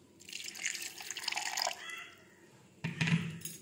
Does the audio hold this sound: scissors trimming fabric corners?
no